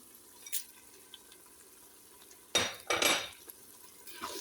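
Spices being stirred into a pot for chicken kabsa, heard as a couple of scraping, clinking bursts of metal against the pot, loud and close, with quiet gaps and a soft tap before and after.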